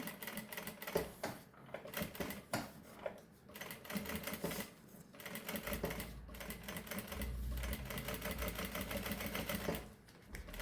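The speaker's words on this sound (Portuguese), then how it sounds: "eu começo, ó, passando uma costurinha na volta toda" A sewing machine runs a continuous seam around the edge of synthetic fabric, its busy mechanical whirr steady and close with short pauses and restarts along the way.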